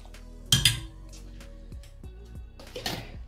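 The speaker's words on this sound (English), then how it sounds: "Let's stir, stir, stir." A spoon clinks against the sides of a pot while citric acid is stirred into a yarn dye bath, giving a few soft, close taps and scrapes with quiet sloshing in between.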